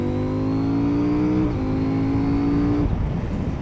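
A CFMOTO 800 MT Touring motorcycle accelerates hard in third gear from around 5000 rpm, its engine note climbing steadily in a loud, close drone before easing off near the end.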